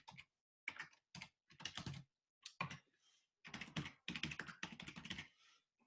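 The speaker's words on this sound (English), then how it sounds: "All you got to do is plug in some information, which I'll type in mine here." Typing on a computer keyboard, entering details into an online quote form: close, quick bursts of keystrokes in several clusters separated by short pauses, with no voices.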